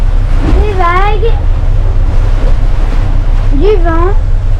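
Waves and strong wind at sea aboard a sailboat sailing between the Bahamas and the USA, a loud continuous rush and low roar, with speech over it at times.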